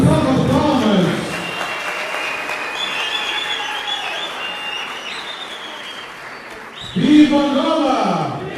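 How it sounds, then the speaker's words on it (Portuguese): Applause and cheering from a crowd at an Angolan UNITA political rally, with loud voices at the start and again near the end, while a steady clapping wash continues between them. "Mas uma forte salva de palmas"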